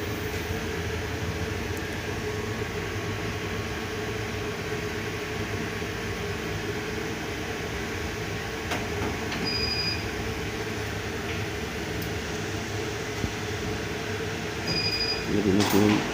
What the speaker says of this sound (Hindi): अभी हम मशीन को चलाने की तरफ चलते हैं।